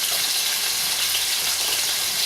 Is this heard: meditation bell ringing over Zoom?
no